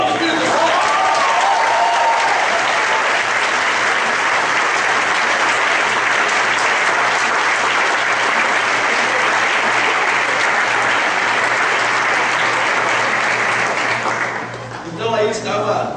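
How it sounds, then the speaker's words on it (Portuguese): A Baptist church congregation at a Sunday service applauds loudly and steadily for about fourteen seconds, then the clapping fades. "Dê um aplauso"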